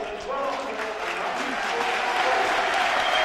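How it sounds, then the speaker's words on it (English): A large crowd at a rugby league match, Leigh v Halifax, applauds loudly and continuously, a dense wash of clapping and cheering that swells slightly and holds throughout, with a commentator's voice underneath. "Tremendous round of applause for Woods, well deserved"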